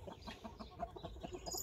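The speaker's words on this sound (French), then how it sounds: "on va filmer les poules 2 secondes" Hens cluck nearby in a rapid series of short, throaty clucks and little squawks, rising and falling in quick succession over a soft outdoor background with no talking.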